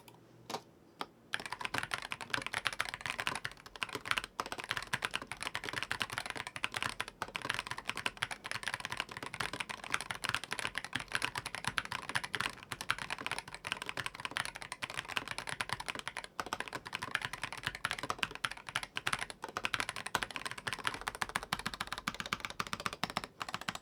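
Steady, continuous typing on an EPOMAKER HE80 75% magnetic-switch keyboard with keycaps fitted, dense overlapping key clacks at an even pace, close and clear with no talking.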